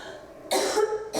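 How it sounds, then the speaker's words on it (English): A patient gives two quick, close coughs after a deep breath, the first longer and rougher, the second a short burst right after. "Yeah, you cough it up."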